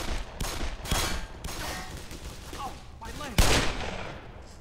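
Several sharp gunshots ring out in the Black Mesa shooter game, spaced irregularly with one especially loud crack near the end, close and punchy.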